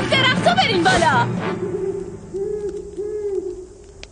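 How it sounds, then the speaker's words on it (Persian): An owl hoots twice softly in a forest setting, low mellow calls drifting in after a burst of close speech, the hoots fainter and spaced about half a second apart. "آروم باشید، فقط یه جغده"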